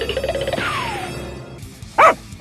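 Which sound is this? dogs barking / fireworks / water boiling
dogs barking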